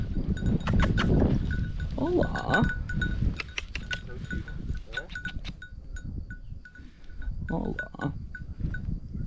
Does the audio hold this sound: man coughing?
no